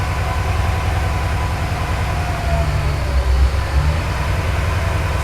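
Porsche 928 engine running with revs held up, a steady low rumbling drone that surges slightly midway, loud and close with no talk.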